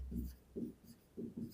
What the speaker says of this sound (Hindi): तो हम लिखेंगे